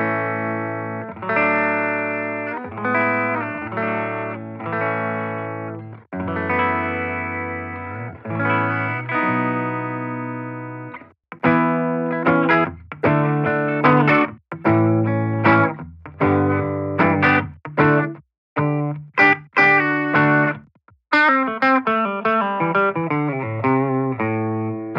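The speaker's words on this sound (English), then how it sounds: "let's play through the first sound, which is the clean, pristine, no effects," Clean, effect-free electric guitar from a PRS humbucker through a Line 6 Catalyst 60W combo amp, played alone as strummed chords and picked arpeggios with ringing sustain and short pauses.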